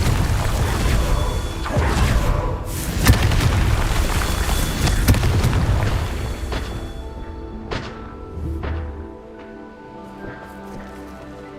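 A Confringo fire spell in Hogwarts Legacy sets off a run of loud, booming blasts and crashes, and the explosions thin out into fainter rumbles and debris clatter over several seconds.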